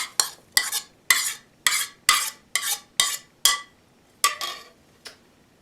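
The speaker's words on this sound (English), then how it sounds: "And again, we'll stir it all up." Raw massaged kale salad with bell pepper and grape tomatoes stirred with a utensil in a bowl: about a dozen crisp, scraping tosses in a steady rhythm, close and clear with no talking.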